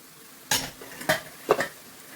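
Leftover rice stirred into a frying pan, with three separate scraping clatters of a utensil against the metal pan, evenly spaced and fairly close, and a faint background hiss between them.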